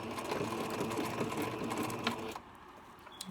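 Sewing machine stitching ribbon onto a fluffy tulle tutu, running steadily at close range for over two seconds, then stopping abruptly with a couple of faint clicks in the quieter tail.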